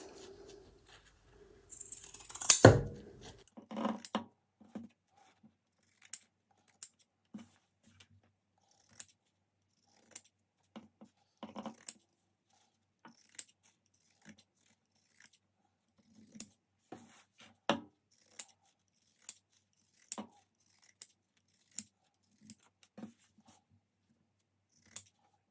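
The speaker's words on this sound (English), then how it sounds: "take your pinking shears and literally just trim the edge as close as you possibly can all the way around the edge" Pinking shears snip around the edge of embroidery fabric in a long series of crisp, separate cuts at a fairly steady pace, each one close and distinct against near silence, after an early louder rustle of cloth.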